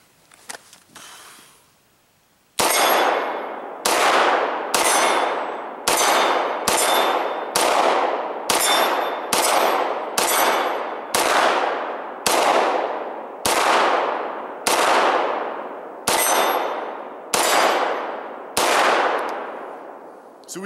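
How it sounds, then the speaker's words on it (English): A Beretta 92 FS Inox pistol fires rapidly at a 12-inch steel plate. About fifteen loud, sharp shots ring out in an even rhythm, each with a metallic clang and a ringing decay, after a quiet lead-in. "We'll try to do some rapid fire, see how many shots I can get, how quickly I can get them on my just a 12-inch steel plate."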